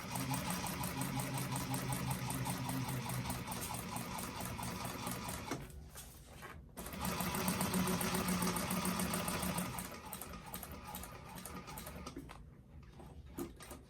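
Top stitching on a fabric bag, the sewing machine running in a fast, even buzz, pausing briefly mid-seam, then resuming in a second long run before easing to a stop with quieter handling sounds.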